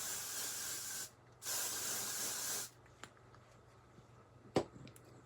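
Two bursts of hair spray hiss from an aerosol can, the first about a second long and the second longer, close and loud, followed by faint taps and a sharp click.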